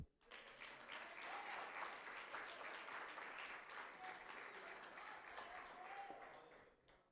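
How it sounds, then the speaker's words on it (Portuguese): Church congregation applauds, a faint but continuous wash of many hands clapping with scattered cheers, holding steady for several seconds before tapering off. "Aplauda o Senhor"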